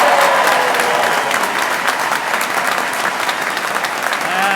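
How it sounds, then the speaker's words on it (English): A graduation ceremony audience gives a loud, sustained round of applause, dense clapping from a large crowd that fills the hall evenly for several seconds. "let me hear just a round of a whooping applause here"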